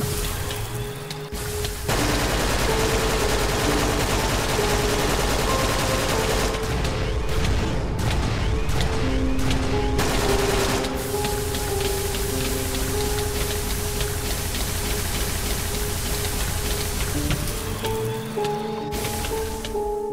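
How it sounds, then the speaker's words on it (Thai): A bio gun that poisons its target fires continuously in Minecraft, making a dense, loud rattling stream with squishy, wet-sounding impacts and a brief pause near the start. "ปืนนี้ยิงแล้วติดพิษ"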